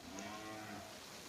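Cattle lowing in a pen at a cattle market in Wonogiri, a drawn-out, low moo that holds steady for over a second at moderate distance, set against faint barn background.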